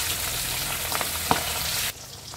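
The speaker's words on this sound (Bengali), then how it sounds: "মাছগুলোকে আমি হালকা ভেজে নেব" Pabda fish frying in hot mustard oil gives a steady broadband sizzle with a brief sharp spatter in the middle, then drops abruptly to a quieter hiss near the end.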